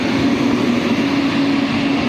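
An intercity train passes close by as a loud, steady rumble with a droning hum that holds evenly throughout.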